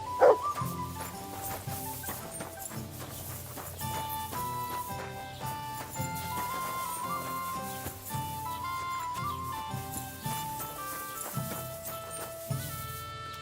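A dog barks and whimpers in the medieval role-playing game Kingdom Come: Deliverance 2, with a few close yelps set beneath a steady orchestral music bed.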